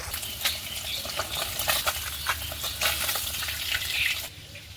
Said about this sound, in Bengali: এই মাছগুলো আমি ওই একইভাবে ভেজে নেব